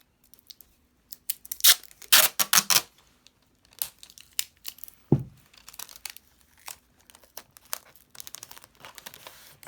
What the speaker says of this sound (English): and then just sticky tape that down.